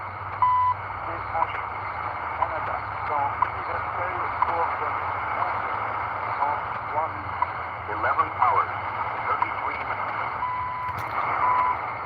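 Shortwave broadcast from time station CHU on 14670 comes through as a steady tone and faint murmuring voice under a constant hiss of static and interference.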